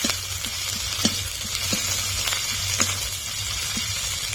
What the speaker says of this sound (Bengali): আদা ও রসুন দিয়ে কিছুক্ষণ নেড়ে নেব।